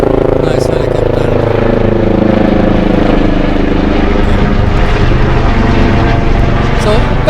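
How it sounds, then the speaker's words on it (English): A loud, steady rotor and engine drone from a helicopter flying over Bergen, Norway, continuous throughout with a low rumbling texture. "Oh, nice helicopter."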